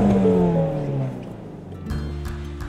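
A Ford Mustang Shelby GT350 V8 revs up with a deep, throaty roar that falls away, then rises again more quietly near the end.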